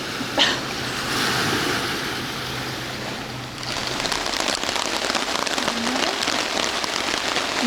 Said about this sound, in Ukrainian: Дощ такий пустився, що тут, я не знаю, душ можна прийняти.